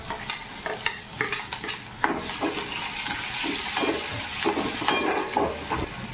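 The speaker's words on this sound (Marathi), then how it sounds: "मिरची व्यवस्थित भाजून घ्यायची आहे." Green chilies fry in hot oil in a pan for pithale and are stirred constantly, giving a loud, close crackling sizzle with scraping and clattering strokes.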